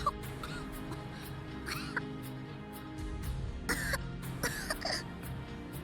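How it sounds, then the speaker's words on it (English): A girl coughs in smoke in the visual novel Root Double: a series of short, faint, rasping coughs in quick bursts over a low, quiet background. "Eventually, the girl's coughing grew weaker."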